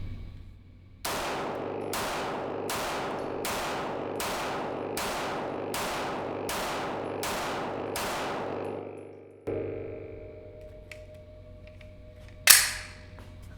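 H&K USP Expert pistol being fired, eight sharp, loud shots in a quick, steady rhythm, then a single later shot and a bright metallic clink near the end.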